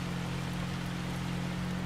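Steady rainfall in the video game Farming Simulator 25, an even hiss of rain over a faint low steady hum, unbroken and with no voices.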